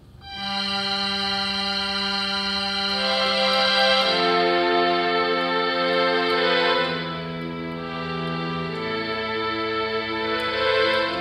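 A strings voice on a Casio CDP-S110 digital piano, sustained chords swelling and shifting smoothly, loud and close, playing alone without talk.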